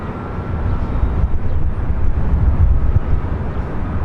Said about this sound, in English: Next arrival is a Southwest flight coming from Denver, flight 4528